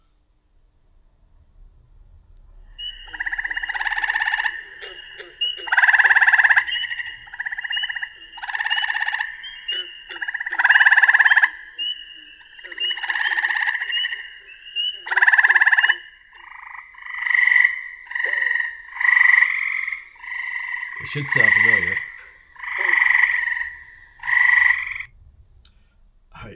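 Recorded frog calls played back through a speaker: loud, rhythmic bursts of croaking trills repeat steadily for about twenty seconds, with a short voice and a brief rustle near the end.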